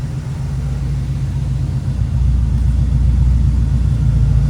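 A 1984 Chevrolet Monte Carlo SS with 38,000 original miles runs with a steady, close low rumble that rises slightly partway through, no talk.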